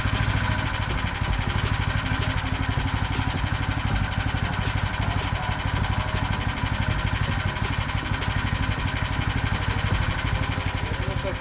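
A Tofalar Long 20 motorized towing unit with a removable engine idles after starting, a steady, rapid low putter with regular pulsing beats, moderately loud and unbroken, with no talk over it.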